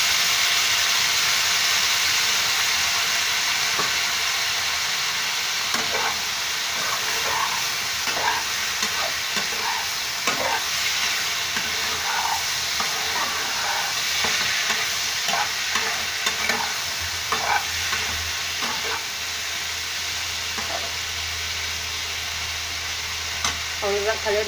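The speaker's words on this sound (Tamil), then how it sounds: "இப்போ நம்ம வாழ்க்கை பொரியல் ஃப்ரையாயிட்டிருக்கு." Green banana poriyal cooked with onion and a little water fries in a pan, a constant loud sizzle overlaid by repeated scraping stir strokes in an irregular rhythm across the whole stretch.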